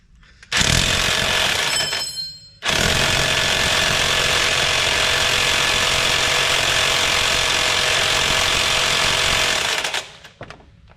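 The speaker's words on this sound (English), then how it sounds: "this lightweight impact won't get it" A lightweight impact wrench hammers on a front strut bolt of a 2005 Nissan Sentra: a loud, close, continuous rattling burst, a brief stop, then a long steady run of about eight seconds before it cuts off.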